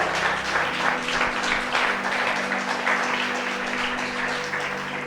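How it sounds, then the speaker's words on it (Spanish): A congregation at a church service applauds, sustained dense clapping from many hands that carries on steadily for several seconds at moderate loudness, with no talking over it. "Dale un aplauso al Señor"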